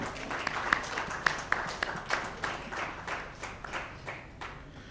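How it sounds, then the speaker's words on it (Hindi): An audience at a TV show launch event applauds to welcome film directors on stage, a dense, steady patter of many hands clapping that gradually fades, with a voice faintly over it. "जोरदार तालियों से स्वागत कीजिए the directors of Everest"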